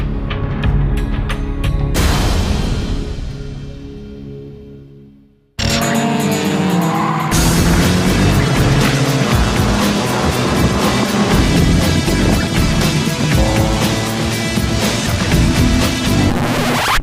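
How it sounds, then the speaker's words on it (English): Race cars lapping at Buttonwillow Raceway during a 24 Hours of LeMons endurance race, loud engines and tire squeal sweeping past, a brief drop to near silence, then a sustained roaring pass. "That's what cars racing at Buttonwillow looks like."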